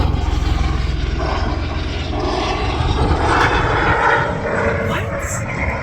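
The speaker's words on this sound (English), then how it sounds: "This black helicopter is circling around the ranch." A black helicopter circles low over a ranch, and its engine throbs and roars loudly and steadily throughout, swelling slightly as it passes overhead.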